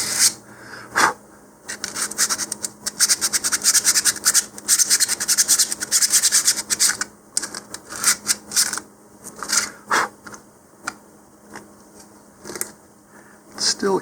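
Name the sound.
sanding a 3D-printed rocket nose cone with sandpaper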